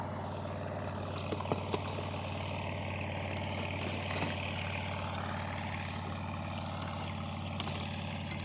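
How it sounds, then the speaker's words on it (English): A steady, loud low motorboat engine drone runs throughout with a constant rumbling hum and faint clicks on top. "Man, that is a loud boat."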